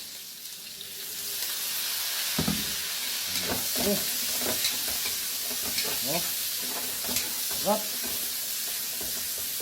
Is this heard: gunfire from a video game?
no